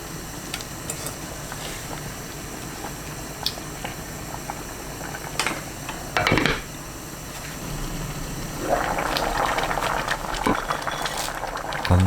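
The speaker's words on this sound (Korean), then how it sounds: "다진 마늘 한 큰술, 아욱 넣고 3분 끓입니다." Doenjang soup with mallow and minced garlic bubbles at a low, steady simmer in a pot, with a few soft knocks and a brief louder clatter partway through.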